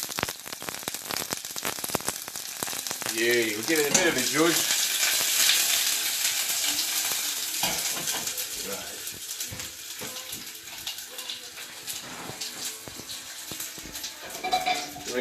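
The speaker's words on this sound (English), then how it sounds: "You can hear that sizzling away." Food sizzles and crackles steadily in a hot pan, loud and close, with brief stirring and a short remark from a voice partway through.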